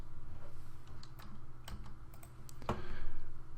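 Typing JavaScript switch-statement code on a computer keyboard, scattered light close key clicks in short uneven bursts over a low steady background hum.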